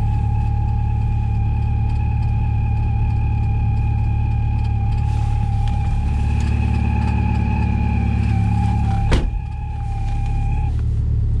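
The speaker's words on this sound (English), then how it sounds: "I think that's power steering." A 1998 Jeep XJ (Cherokee) idles after a cold start at minus sixteen degrees Fahrenheit, a steady engine drone carrying sustained whining tones of power steering noise, close and loud with no talk, ending in a brief knock.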